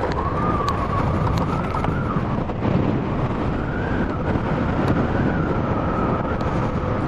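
Electric scooter riding in Sport mode, a steady broadband rush of wind and road noise with a faint rising and falling motor whine running throughout, no voices.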